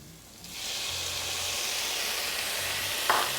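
Cherry tomatoes sizzle steadily in a hot pan with garlic and chicken fat, a broad continuous frying hiss that swells after a brief quieter start and holds close and loud, with a small clink near the end.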